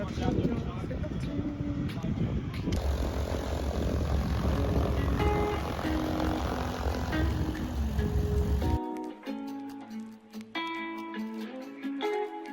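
Propeller plane for a scenic flight at Airlie Beach, its engine droning loud and steady up close for about nine seconds under voices, then cutting off, leaving faint tones and quieter sounds.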